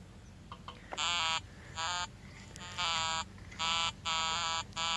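A metal detector gives a run of sharp electronic beeps, six bursts in an uneven rhythm, loud and close over low outdoor background noise.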